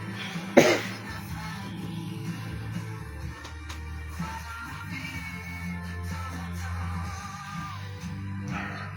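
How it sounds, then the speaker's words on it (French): A sharp single cough rings out near the start, followed by quieter room noise and faint murmuring. "Voilà, vous pouvez tousser."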